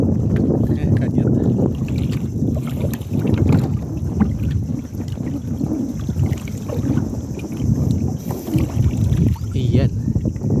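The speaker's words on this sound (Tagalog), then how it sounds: "Gumagalaw talaga itong bangka na ito ha." A small boat rocks and shifts on the water at high tide, with water sloshing against the hull and gusty wind buffeting the microphone while people talk nearby.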